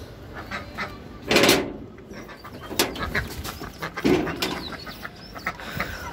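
Chickens and ducks, including a male duck, are let out of their pen at a home farm, with wings flapping in a few loud bursts among scattered clucks and shuffling nearby.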